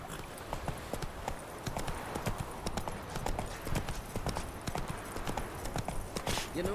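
A horse gallops in The Witcher 3 video game, hooves pounding in a fast, steady clip-clop rhythm that stays close and continuous, with no talk.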